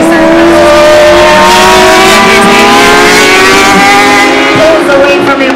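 A Ducati motorcycle accelerates hard on a race circuit at a speed event, its loud engine whine climbing steadily in pitch, close and continuous throughout.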